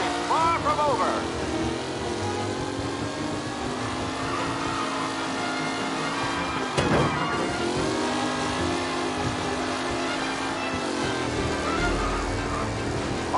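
Race cars speeding in the Mafia remake: a continuous, fairly loud engine drone with shifting revs and a brief whoosh of a car passing close midway, under an excited commentator's voice.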